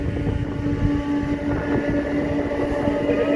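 A train running, a steady loud low rumble with a constant droning hum and faint rattling, heard from on board without any voices.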